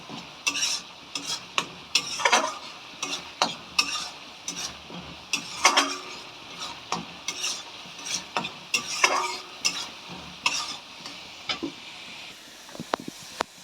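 A spoon stirs and scrapes gravy for soya cheese manchurian as it fries in a pan, with repeated irregular metallic scrapes and clinks over a low steady sizzle, close and without talk.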